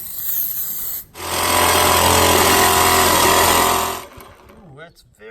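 Jigsaw cutting a skid plate for a Lola T580, a loud harsh buzzing rasp running for about three seconds after a brief start, then stopping with a quieter tail.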